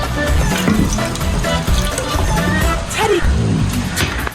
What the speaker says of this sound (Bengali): এই নাও মধ্যে হাতটা ধুয়ে নাও